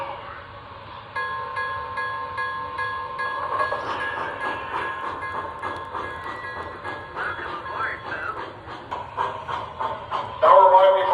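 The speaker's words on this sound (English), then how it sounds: "Now arriving from Chicago on track 2, train number 58, the Niagara Falls Deluxe Special." An MTH Michigan Central Hudson model train runs along its track with a steady rolling rumble and clatter, accompanied by hissing and tonal sound effects, and a brighter whistle-like burst near the end.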